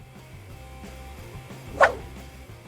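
A single short dog bark rings out around the middle of a brief stretch, over a low steady background hum, in a house where a burglar is befriending the dog.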